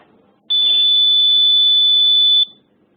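A heart-rate sensor alarm sounds a single loud, steady electronic tone lasting about two seconds, starting and stopping abruptly against near silence.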